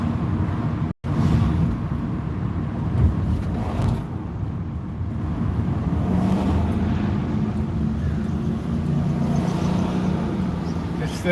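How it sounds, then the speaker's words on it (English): Dodge Hellcat driving by on a street on a Sunday afternoon, a loud engine roar that surges and fades amid traffic noise, with faint voices in the background. "Dodge Hellcat."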